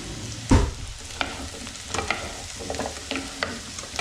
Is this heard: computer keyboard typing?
no